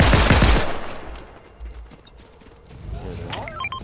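Gunfire in the Fortnite video game, a loud burst of rapid shots at the start that fades, then scattered thuds and game effects with voices talking.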